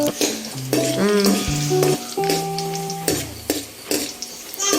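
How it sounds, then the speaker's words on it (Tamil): Curry leaves sauté with garlic and green chillies in a hot pan, giving a continuous close sizzle broken by spoon scrapes and knocks as the mixture is stirred, with some sliding tonal squeaks from the utensil. "தேவையான அளவு கறிவேப்பிலை எடுத்து போட்டுட்டு அதையும் கொஞ்சம் நேரம் வதக்கிட்டே நம்ம இருக்கணும்."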